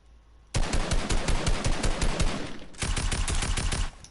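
A blue assault rifle fires in Fortnite in two loud, rapid bursts of automatic gunfire, each a fast, even string of shots with a short gap between them.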